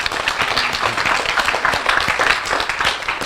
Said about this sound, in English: Everybody give Uriah a round of applause.